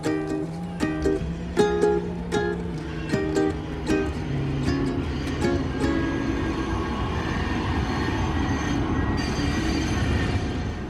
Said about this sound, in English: This is the slowest train I have ever seen.